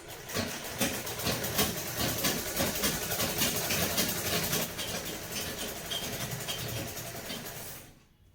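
A sewing machine runs steadily while double-stitching a suit, a continuous fast mechanical whir at a moderate level that fades out at the end.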